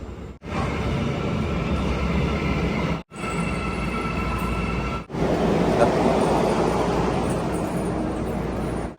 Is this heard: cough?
no